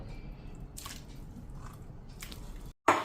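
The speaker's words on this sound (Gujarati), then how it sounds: "હાથ ફેરવી અને માખણને ધોઈ નાખવાનું" Soft wet squishing and sloshing as cow's-milk butter is washed by hand in water, with a few drips and splashes.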